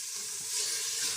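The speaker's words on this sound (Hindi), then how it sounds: "अब मैं इसमें सारी चने की दाल डाल दूँगी।" Chana dal tipped into hot fried masala in a pan gives a steady, bright sizzling hiss that swells slightly partway through, with no talking.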